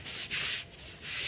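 Stiff brush scrubbing a wet wooden deck, steady close bristle strokes in a back-and-forth rhythm with brief dips between passes, no talking.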